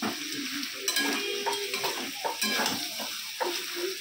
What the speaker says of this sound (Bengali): এবার দিয়ে দিলাম টমেটো।